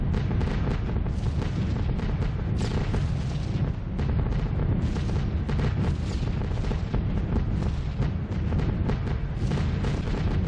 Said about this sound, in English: That's heavy flak, you know.